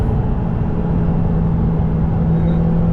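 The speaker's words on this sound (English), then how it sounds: "we're going to put it in sports mode, and then I'm going to accelerate" A Lotus Emira accelerates in sports mode, its engine giving a loud, steady low drone heard from inside the car that holds level without clear gear changes.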